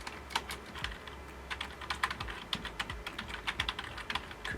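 Rapid typing of an admin password on a computer keyboard during a FreeNAS 11 install, a dense run of crisp key clicks with an uneven rhythm, close and clear with no talking.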